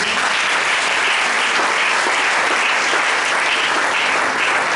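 A church congregation claps and acclaims Jesus, a dense, loud burst of steady applause from many hands filling the room with crowd noise, no speech over it.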